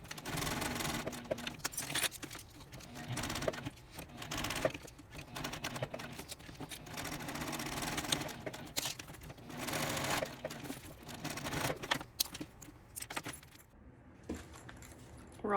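A sewing machine stitches down the side of a zipper pouch wallet, running in uneven bursts of rapid mechanical clatter with short pauses between runs, close and steady over about fifteen seconds.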